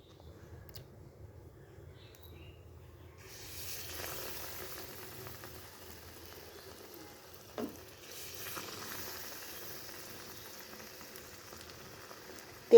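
Battered eggplant beguni fritters hit hot Fortune white oil after a few quiet seconds. A soft, steady sizzle follows, broken by a couple of brief clunks.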